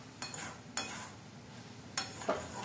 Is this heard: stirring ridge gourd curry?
yes